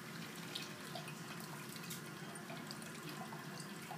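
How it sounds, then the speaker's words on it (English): About 500 ml of water poured steadily through funnels into a laboratory beaker during a chemistry demonstration, a continuous close trickling splash with no voices. "pouring the 500 ml of water into the other beaker"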